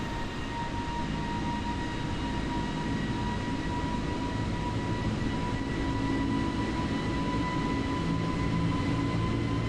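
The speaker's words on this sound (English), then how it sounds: "I can't say enough about what they've done with the sound of this plane" Airbus A320 jet engines in Microsoft Flight Simulator, a steady loud broadband roar with a sustained whine, continuous and unbroken throughout with no talking.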